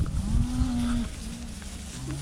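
A herd of black cows with calves, including Charolais calves, lets out long, low, drawn-out moos, loud and close, one following another over steady outdoor background noise.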